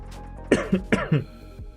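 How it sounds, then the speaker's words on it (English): A person coughs two times in quick succession, each a pair of rough bursts, close to the microphone, followed by a faint throaty sound. "Still have like a little bit of a cough now."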